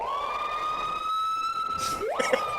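Screaming piha birdsong: a loud, pure whistle holds steady, then a sharp upward-sweeping note cuts in, clear and ringing with little background.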